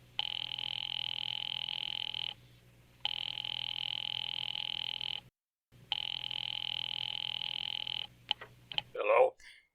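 A telephone rings in a radio theater play, three long electronic ringing bursts separated by short silences, followed by a few clicks and a brief rustle as the receiver is picked up.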